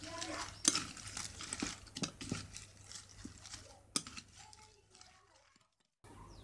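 Roti bhel ingredients being tossed with chaat masala and spices, giving soft scraping and stirring with a few sharp spoon clinks against the bowl, steady and close throughout.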